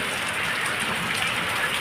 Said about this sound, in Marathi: पाऊस चालू झाला आमच्या इकडं.